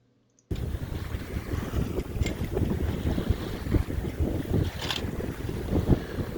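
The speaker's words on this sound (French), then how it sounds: "Nous naviguons sous génois à une vitesse de 5 nœuds." A sailboat moves under genoa at about 5 knots in the San Juan Islands, with a continuous rushing of wind and water against the hull and occasional creaks and splashes, no voices.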